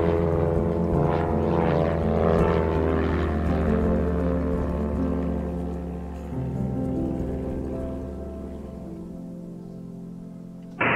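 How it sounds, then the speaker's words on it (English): A propeller airplane departs the runway to the south in the Oahu area, its steady droning engine loud and close at first, then easing slightly as it pulls away, with no talk over it. "First aircraft departing runway to the south."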